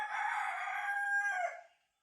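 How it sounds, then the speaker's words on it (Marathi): One loud rooster crow at dawn, close by, a long drawn-out call that holds steady and then fades away into silence. "कोंबडा आरवलेला आहे"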